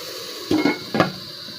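A metal lid settles onto a cooking pot with two quick clanks close by, over a faint steady hiss of simmering food.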